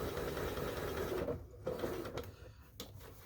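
A sewing machine stitches fabric for a mug rug, a fast steady mechanical whir that stops abruptly partway through, followed by a few short clicks and brief bursts.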